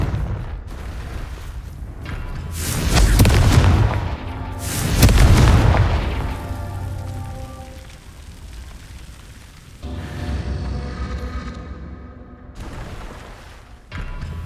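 Repeated Confringo fire spell blasts in Hogwarts Legacy, a video game, heard as two heavy, loud booming explosions a couple of seconds apart, followed by rumbling debris and softer crackling with no talk.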